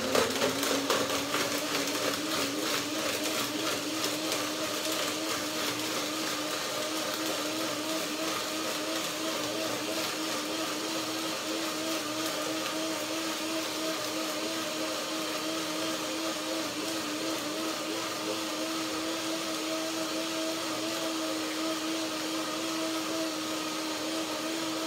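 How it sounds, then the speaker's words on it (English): A blender runs continuously at high speed, a steady whirring roar that holds for the whole stretch without pause. "I will blend and see what kind of, if I need more water"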